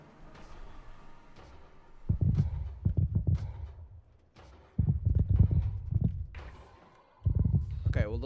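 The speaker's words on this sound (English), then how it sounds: "The heartbeat sounds." Low, throbbing heartbeat pulses in a modded Minecraft (ATM10) deep dark cave, repeating in heavy clusters separated by quieter gaps, with faint ambient tones underneath.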